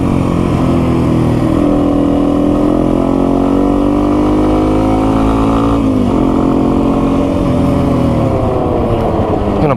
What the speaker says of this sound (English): As fast as this bike has moved in a while.